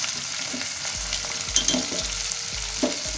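Butter sizzles with onions in a pan, a steady close frying hiss punctuated by rhythmic utensil scrapes and soft knocks roughly every half second.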